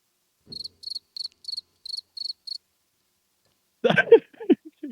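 A cricket chirping sound is played as a prank: seven short, crisp, high chirps in an evenly spaced series, followed by silence and then a brief burst of nearby voices reacting.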